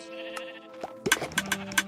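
Sheep in the video game RealmForge let out several short, sharp bleats in quick succession, close and clear over a steady tonal hum.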